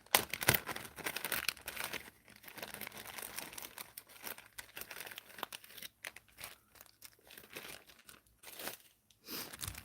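Small plastic baggies holding beads crinkled and rustled up close, with bursts of crackling between brief quiet pauses.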